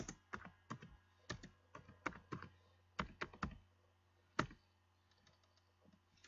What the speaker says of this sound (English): I'm just typing it away because this junk is popping up.